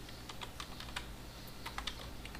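Computer keyboard clicking quietly as code is typed, irregular bursts of light keystrokes with short pauses, close but soft over a low steady room hum.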